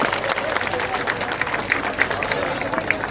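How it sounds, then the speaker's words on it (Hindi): An audience at a vigorous Hindi poetry gathering claps steadily, a dense sustained applause with scattered louder claps rising out of it. "आपकी तालियां मुझे बता जरा, इंगित करें।"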